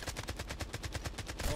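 Rapid automatic gunfire in a mobile shooter video game, a fast, even burst of about a dozen shots in under two seconds, close and steady, with no talk over it.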